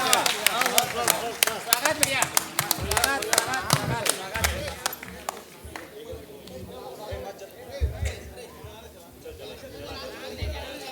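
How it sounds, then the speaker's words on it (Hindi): An audience at a Hindi poetry gathering breaks into loud, dense applause for poet Meer Ali Meer, claps strongest at first and then thinning into scattered clapping and crowd chatter. "जोरदार ताली भाई मीर अली मीर जी के लिए"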